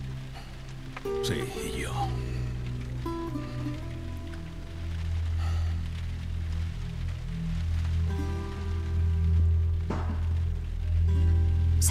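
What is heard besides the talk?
rain in video game The Last of Us Remastered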